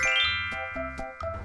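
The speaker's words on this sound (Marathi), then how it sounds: "एक जादुई घंटा." A magic bell in a Marathi children's story chimes with three or four bright, ringing strikes, each tone lingering and overlapping the next, clear and fairly quiet.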